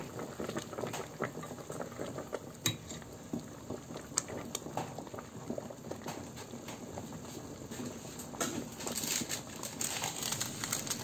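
Tuna sinigang soup with vegetables simmers in a pot, giving a steady, close bubbling and gentle liquid churn that continues throughout with no voices.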